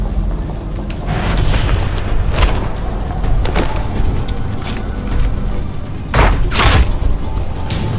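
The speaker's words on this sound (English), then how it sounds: "Suddenly he dodges the bullet fired by the killer" A killer fires a gunshot in a dramatic assassin scene, with heavy booming blasts over a rumbling, rushing backdrop and a sharper, louder pair of shots near the end.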